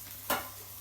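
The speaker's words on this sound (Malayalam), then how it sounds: "വീട്ടിൽ വന്നപ്പോൾ അമ്മ മീൻ പൊരിക്കുന്നുണ്ട്" Fish frying in a home pan gives one sudden sizzling burst that fades quickly into a soft, steady hiss of hot oil.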